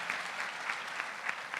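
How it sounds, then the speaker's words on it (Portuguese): Applause from a lecture audience, a short, fairly faint patter of many hands with a quick, even rhythm and no voices. "Palmas aí"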